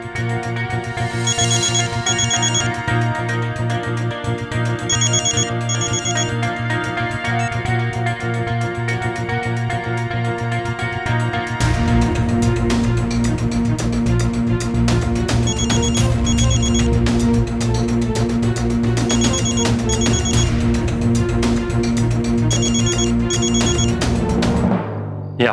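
A telephone rings during a phone call in a Hindi TV drama, its chiming ringtone repeating in regular bursts over a loud, continuous musical background.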